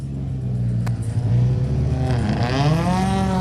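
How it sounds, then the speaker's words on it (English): Gulf-liveried classic Ford Escort at a hill climb, its engine rumbling loud and close, then rising in pitch as it revs up. "Who would have thought that a Ford Escort could sound that way?"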